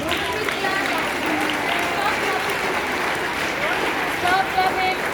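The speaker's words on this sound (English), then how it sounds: "Stop clapping." Sustained applause from a school audience at a Children's Day morning assembly, dense and steady clapping filling the hall for several seconds, with a few voices and children's chatter mixed in.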